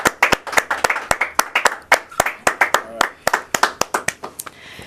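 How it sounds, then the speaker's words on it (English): Audience clapping at a studio show, loud, distinct rhythmic hand claps repeating at a brisk, fairly even pace, close and clear, with a few overlapping claps. "I think he deserves a round of applause for coming"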